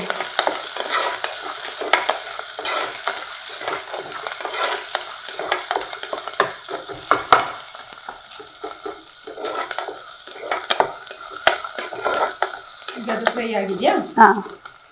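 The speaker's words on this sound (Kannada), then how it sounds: "ಒಂದು ಈರುಳ್ಳಿ ಸಾಕು ಇದು ಚೂರು ಫ್ರೈ ಆಗಲಿ" A single chopped onion frying in a pan, a dense continuous sizzle close by with scattered crackles and occasional utensil scrapes, brief murmurs of voice underneath.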